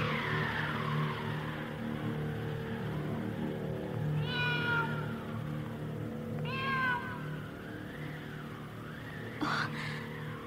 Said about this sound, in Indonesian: Sepertinya kucing itu sedang marah, Nilam.